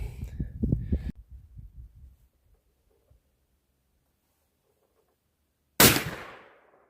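A single loud rifle shot from a 375 Ruger against a level 4 armor plate rings out sharply after near silence, decaying quickly; a few low thumps and handling noises come earlier.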